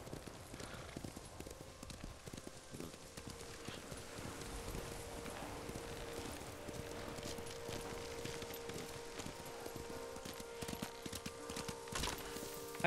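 Steady clip-clop of a horse's hooves in Ghost of Tsushima, a continuous even trotting rhythm under a faint background score.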